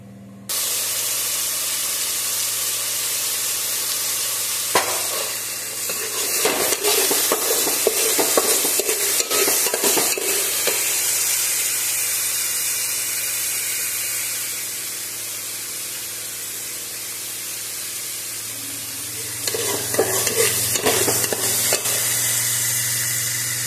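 Onion fries in a pan, making a continuous close sizzle and hiss with occasional bursts of stirring scrapes and clatter near the middle and end, and no one speaking.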